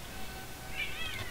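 A house cat in the background lets out a soft, drawn-out complaining meow, quiet and somewhat distant against low room noise.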